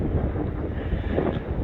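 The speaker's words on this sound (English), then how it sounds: "pretty windy day out, so hopefully you guys can hear me." Strong wind buffets the microphone beside the Cloquet River at a public landing, a loud, steady broadband rumble of wind noise with no pauses.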